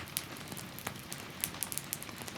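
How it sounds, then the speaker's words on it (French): Soft rain patters on a roof overhead, a steady hiss of scattered drops with occasional louder taps, faint and continuous with no voices. "au rythme des gouttes de pluie que vous entendez tomber sur le toit au-dessus de vous"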